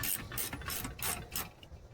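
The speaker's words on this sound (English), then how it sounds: "And that lifts our transmission jack." Pittsburgh 450 lb low-profile transmission jack being ratcheted up, a quiet series of rhythmic clicking pawl strokes, about five evenly spaced, close by and without speech.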